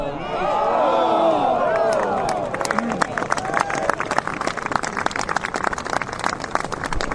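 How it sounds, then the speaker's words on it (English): A gallery at the Presidents Cup in San Francisco reacts around a 30-foot putt on a par-3 green, with a rising crowd groan and cheer that gives way to scattered clapping. "Let's listen to the crowd."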